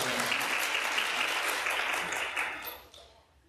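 A conference audience at an open educational resources summit breaks into dense, sustained applause that stays loud and then fades out toward the end.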